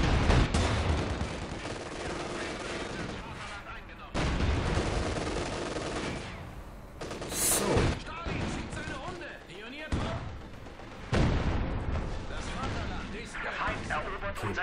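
Tank battle in Company of Heroes 2, heavy tanks trading fire amid dense, continuous gunfire and explosive bursts, with loud impacts recurring every few seconds while someone talks over the action.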